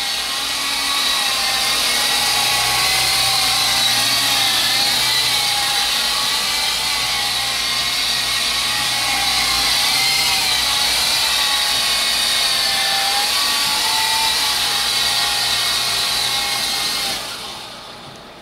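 A small CX3 RC helicopter's rotor whines steadily at high pitch with a wavering motor hum, close and loud, cutting off abruptly at the end.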